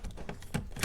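Door locks of a Chevrolet Camaro being locked from inside the car: a few quick, close mechanical clunks spread across a short moment, with a sharper bright snap at the end.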